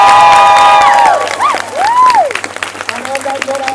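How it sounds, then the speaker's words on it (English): Audience at a medical school pinning ceremony claps and cheers loudly, with rising whoops and shouts over the clapping that thins out toward the end. "keep that round of applause coming"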